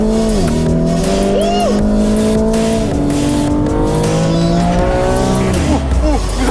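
A car engine revs hard through shifts while tires squeal sharply on a couple of turns, loud and close.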